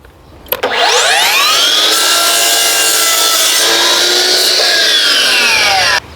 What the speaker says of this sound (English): Now you can follow that cut with your mitre saw set on a